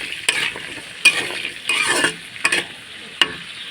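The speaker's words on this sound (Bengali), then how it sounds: "এগুলো ভাজা ভাজা করে নেব" Potatoes and beans frying in a hot wok of oil with nigella seeds and dried chilli, crackling sizzle broken by sharp stirring scrapes and bursts of spitting, close and fairly loud.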